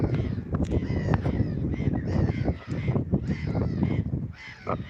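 Crows cawing repeatedly outdoors, loud harsh calls overlapping in a busy, continuous chorus with several birds calling at once, no voices.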